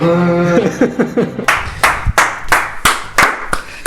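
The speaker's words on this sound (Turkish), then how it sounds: "Niye alkışladık? kendimizi alkışladık." A small group claps together in a quick run of sharp, close hand claps, preceded by a moment of voiced laughter or exclamation before the clapping takes over.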